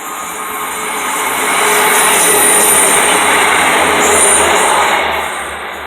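A loud, steady rumbling roar swells and lingers as a train passes close by, with a hissing, rushing wash of noise.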